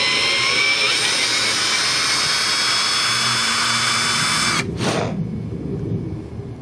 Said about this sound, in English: And the drill bit on this thing is a left-handed drill bit.